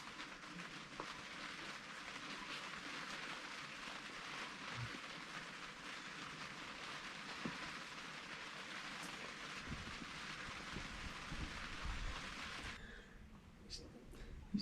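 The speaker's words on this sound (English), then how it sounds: "it's been raining real good" Steady rain falling on a rural field in November, a constant soft hiss of drops throughout, fairly faint and even, fading away just before the end.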